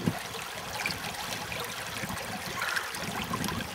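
Shallow creek water trickles and babbles steadily nearby while watercress is pulled from it, with occasional small splashes and light handling noises and no speech.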